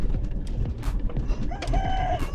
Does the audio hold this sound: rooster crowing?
yes